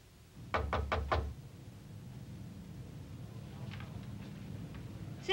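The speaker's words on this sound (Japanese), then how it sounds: "ノックの音に気づいて。" Four quick, firm knocks on a door sound up close in a short burst, followed by quiet room tone with no voices.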